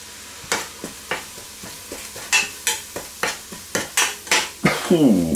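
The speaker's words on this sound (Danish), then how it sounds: "det er vigtigt, at karry det lige svitser lidt, at det bliver ristet lidt" Curry powder sizzles in a pot while a spoon stirs and scrapes against the pot in a regular rhythm, close and clear, with no talk.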